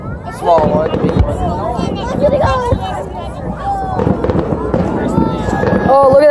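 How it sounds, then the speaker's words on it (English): Backyard fireworks, including chasers and high aerial shells, crackle and pop in a loud, constant barrage, with excited voices talking throughout. "It's high fireworks too."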